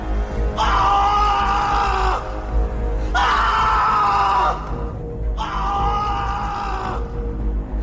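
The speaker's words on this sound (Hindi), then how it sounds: "तो इस बार वो चीखता गया" A man screams as a sound effect in a Hindi horror story: three long, loud, anguished screams, each lasting over a second, separated by brief pauses.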